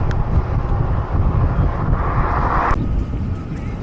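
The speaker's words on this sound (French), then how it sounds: "j'ai du vent de face de temps en temps" Headwind buffets the microphone while cycling on a long road stage, a steady loud low rumble of wind noise that swells and eases over several seconds.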